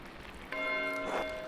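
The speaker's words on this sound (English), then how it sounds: "Why is Matthew ringing the bell?" A church bell rings in the video game Pentiment, one clear sustained strike with a long ringing tone starting halfway through, over quiet ambience.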